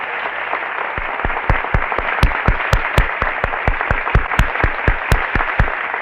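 Graduates at a Ball State University spring commencement applaud their families, a dense, loud wash of clapping with sharp individual claps cracking out above it, steady throughout.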